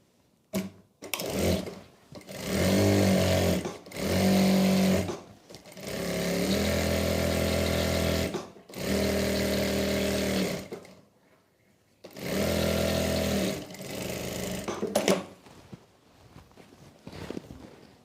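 A sewing machine stitches the legs and knee panels of a salwar together in several bursts of a few seconds each, some long and steady, separated by short pauses and fabric handling.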